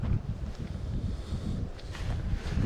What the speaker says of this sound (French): mais là il y a un vent glacial.